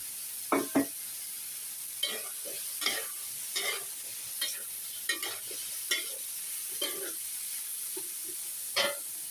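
Vegetables and tomatoes are stir-fried in a pan, making a faint, soft sizzle broken by about a dozen scraping stirs at a loose, regular pace, with no voices.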